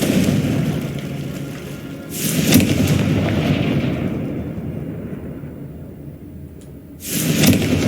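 Confringo spell explosions in Hogwarts Legacy: a low, continuous rumble with two loud, bright blasts a few seconds apart, each followed by a deep roar that tails off.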